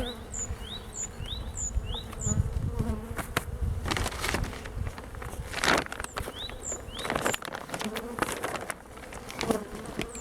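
Honeybees buzz around an open hive during a first spring colony inspection, a dense, close, continuous hum with some louder passes near the listener, together with light rustling and bumps of frames being handled and chirping birds in the background.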